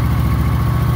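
Kawasaki Vulcan 900 cruiser motorcycle engine, a 2016 Custom, idling steadily up close with a loud, even low-frequency pulse throughout the second and no talking.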